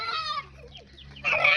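A domestic chicken clucks at close range in a short burst, a few throaty notes followed by a louder, harsher squawk, with no talking.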